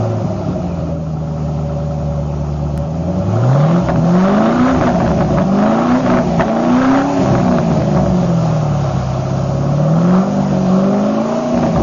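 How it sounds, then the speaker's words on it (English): Ford Mustang (2005–2009) with a Roush Extreme axle-back exhaust on a stock H-pipe idling with a steady low burble, then revved several times in rising and falling swells, loud and close with no talking. "Here's what it sounds like on a stock H pipe."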